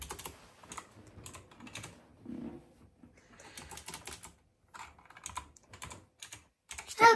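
Light clicking keystrokes on a computer keyboard while typing into a Roblox game on a PC, in short irregular bursts with pauses, faint and close, with a quiet voice near the end.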